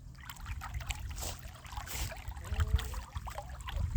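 Small pool pump in a chicken pool pushing water up to the surface: a steady close gurgle and splash of churning water with a low rumble underneath, rising a little toward the end.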